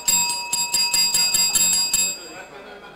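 A small hand bell rings about ten quick, evenly spaced times, bright and close, then the last ring fades away.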